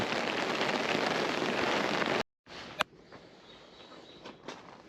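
Heavy rain pours in a steady dense hiss at a commercial fishing lake in the Netherlands, cuts out briefly, then resumes more softly with a few sharp clicks and distant chirps.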